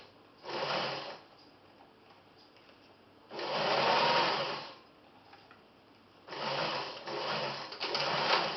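A sewing machine stitches a zip into a garment in three bursts of fast whirring, each a second or more long, separated by quiet pauses, close and with no talk.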